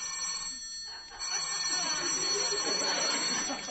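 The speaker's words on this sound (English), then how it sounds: "is that a telephone I hear?" An old-time radio telephone bell rings in a continuous metallic trill, steady and fairly loud after a brief gap, heard alone in a hallway setting.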